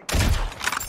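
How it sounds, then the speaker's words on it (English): Gunfire in a competitive shooter video game scrim, a short burst of rapid shots heard close and fairly loud, lasting under a second with no talk. "Why are you guys shooting, guys?"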